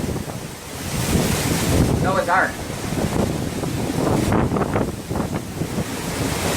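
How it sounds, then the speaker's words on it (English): Stormy sea waves crash and surge around a tanker ship in heavy weather, a continuous roar mixed with buffeting wind noise, while someone speaks over it. "the sight of the thunderous waves around the ship"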